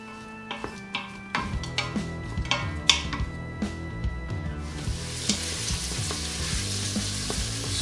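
Onions and garlic sauté in an Instant Pot insert: a run of sharp utensil clinks and scrapes against the metal pot gives way to a loud, continuous close-up sizzle.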